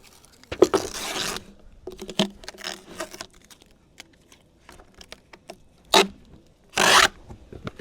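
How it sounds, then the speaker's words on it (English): Tape being peeled off a deck during a liquid rubber renovation, heard as several short ripping, zipper-like tears close by with quieter scrapes and rustles between them, and no voices. "I'm going to take this tape off of here"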